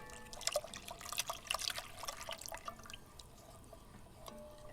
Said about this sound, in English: I'm going to add the rest of the coconut milk